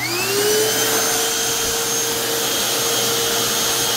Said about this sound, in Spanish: tengo ya conectada a la luz la aspiradora y la voy a encender